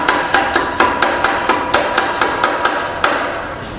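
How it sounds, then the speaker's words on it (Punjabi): A tamping rod strikes cement in a cube mould during a compressive strength test, about fourteen sharp, evenly paced knocks, loud and close with no talking. "ਸਾਡੇ ਕੋਲ ਜਿਹੜੀ ਟੈਂਪਿੰਗ ਰੋਡ ਹੈ ਇਹਦੇ ਨਾਲ 20 ਸਟ੍ਰੋਕਸ ਦੇਵਾਂਗੇ"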